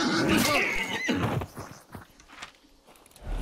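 A horse in a video game lets out a loud, close whinny that trails off into quieter rustling and a few faint hoof-like knocks.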